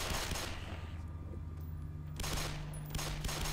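Gunfire in the video game Black Mesa, a rapid fusillade of shots at the start followed by further bursts at quieter levels, with no talk over it.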